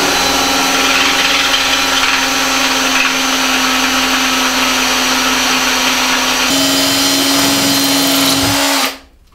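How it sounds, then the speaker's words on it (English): An Irwin high-speed titanium-coated bit drills a 4mm hole through a thick piece of steel, a loud, steady high-pitched whine that shifts in tone near the end, then cuts off abruptly as the motor stops. "I'm going to demonstrate that by putting a 4mm hole in this particularly thick piece of steel here"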